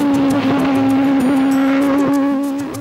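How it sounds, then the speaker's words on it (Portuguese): Toleman Formula 1 race car at full throttle on track, a loud, high, steady engine whine close by, holding pitch for the whole short burst with no talking. "foi na parte da tarde, depois de alguns acertos no carro e com a pista mais seca, que Ayrton Senna pisou fundo no acelerador."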